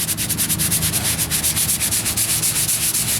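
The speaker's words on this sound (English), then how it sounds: "So what I'm going to do is I'm going to stay off this line and sand it separately." The wheel arch repair on a 1998 Ford Ranger is hand sanded with fast, rhythmic circular strokes that make a loud, close, steady rasping with even pulses, and no one speaks.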